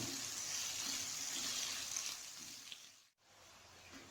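Onions fry in a pan for a creamy green mutton curry, a soft steady sizzle and hiss that runs faint and even, dips briefly near the end, then resumes quietly.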